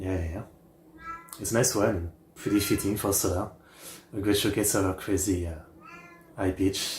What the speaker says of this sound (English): Sorry about the cat, it is what it is.